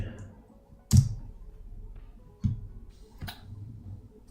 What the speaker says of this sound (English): I just typed on my keyboard rather than the iPad.